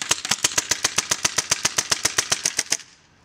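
A paintball marker fires rapidly on full auto, a tight even burst of about twenty sharp loud pops in under three seconds, then stops abruptly with no talk.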